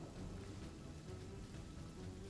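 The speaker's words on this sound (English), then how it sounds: "And there's definitely rain" Steady rain falls in the fantasy RPG Divinity: Original Sin, a constant dense wash of drops with a low rumble beneath, faint and unbroken throughout.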